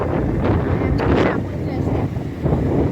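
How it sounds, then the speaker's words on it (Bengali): Strong gusty wind ahead of a storm at a train station buffets the microphone in loud, rumbling waves, with a voice talking faintly underneath. "হাওয়া উঠে গেছে গাইস যখন তখন ঝড় আসতে পারে"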